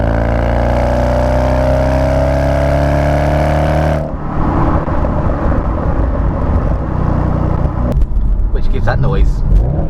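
Audi S6 Avant C5 with a V8 on LPG, fitted with 2.5-inch stainless decat pipes and an RS6 exhaust, revving: a loud, close engine drone that rises steadily, then breaks into rough rumbling bursts of throttle.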